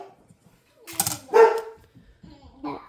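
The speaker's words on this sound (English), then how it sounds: "There's the dog." A dog barks a few times at close range in a quiet indoor room during a home light-wiring job, with short sharp yelps and a whimper-like sound between silences.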